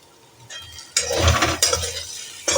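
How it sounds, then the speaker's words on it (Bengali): Spices and eggplant curry stirred in a pan, with scraping spoon strokes and soft sizzling in a few bursts, close and moderately loud. "আবার একটু নাড়াচাড়া করলাম"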